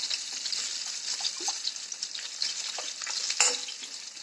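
Steady crackling sizzle of meatballs frying in a pan, continuous and moderately loud, with a few small clinks and no voices.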